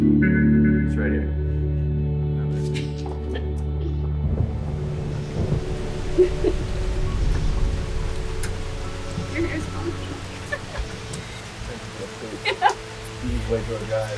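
A thunderstorm with steady rain sets in. Low rumbling thunder gives way to a dense, even patter of rain that builds and stays close and loud. Scattered sharper drops stand out over the wash.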